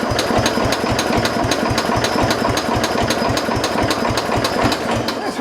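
Small engine running after gas was added to the fuel line, a loud, fast, steady putter of evenly spaced firing pulses that keeps running without pause.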